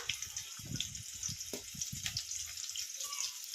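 Green chilies and curry leaves crackling and sizzling in hot oil, a close, steady hiss with small popping bursts throughout.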